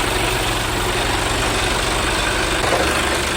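A tow truck's diesel engine idles steadily and close by, a continuous low rumble with a broadband mechanical wash and no speech over it.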